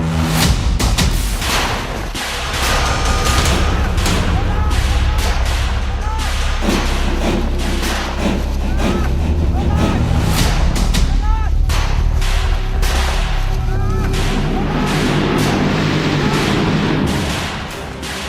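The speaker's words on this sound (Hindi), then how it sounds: "गोलियों की आवाज, बम धमाकों ने बता दिया माओवादियों ने हमला बोल दिया।" Gunfire and bomb blasts from a Maoist ambush in the Jhiram valley: a dense, continuous stream of sharp bangs and heavier booms lasting the whole stretch, loud and close.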